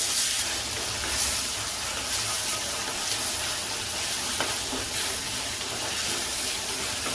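Tomatoes with salt sautéing in a clay pot for a village-style chicken gravy, giving a steady close hiss and sizzle throughout with no speech.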